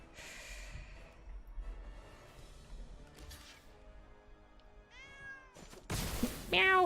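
Near the end, a house cat lets out a loud, drawn-out meow right up close. Before it comes a quiet stretch of faint background sound.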